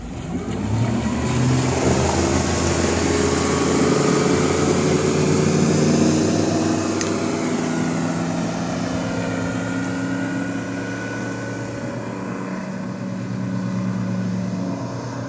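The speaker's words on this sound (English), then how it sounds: "What I'm going to do now is start this boat, put the hammer down so you can see how fast this thing jumps up out of the hole." A 2013 Regal 1900 boat's engine starts and accelerates hard, rising into a loud, sustained roar that climbs in pitch and then holds steady as the boat gets up to speed, close by and alone.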